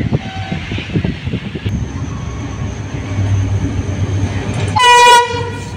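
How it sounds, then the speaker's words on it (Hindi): The Karakoram Express passes Malir Cantt station in Pakistan, a loud rumbling train roll rising close by, with a sharp horn blast sounding near the end. "42 डाउन कराकरम एक्सप्रेस जो है उसका ट्रेन एक्शन देखने को मिलेगा"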